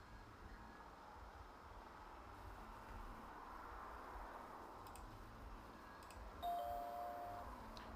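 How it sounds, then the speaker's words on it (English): A bell rung at the bakery in the video game Zak McKracken and the Alien Skunkbenders, FM Towns version, a single clear ding over a faint low hum. "if we ring the bell here"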